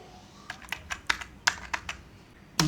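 Typing commands on a computer keyboard while configuring a MikroTik router through its command line, a run of close, crisp keystrokes in an irregular rhythm ending with a heavier key press.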